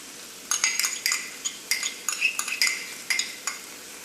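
A utensil stirs vegetables with tomato sauce in a pan for egg manchurian, giving a close run of irregular clinks and scrapes against the metal, with no voices.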